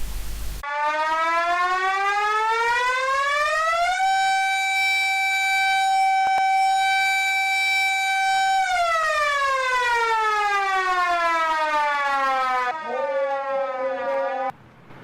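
An alarm siren mounted on the 48-foot minaret of the Trikaripur Town Juma Masjid, signalling the end of the Ramadan fast, wails long and loud, rising to a sustained steady tone, then falling and rising again.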